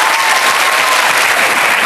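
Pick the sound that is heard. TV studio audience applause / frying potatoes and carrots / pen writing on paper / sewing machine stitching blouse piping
TV studio audience applause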